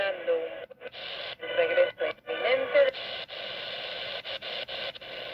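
A DSP AM/FM/shortwave radio tuned around the shortwave band, its hissy broadcast audio repeatedly dropping out and muting for brief gaps while the dial turns, fairly loud and continuous between the cuts.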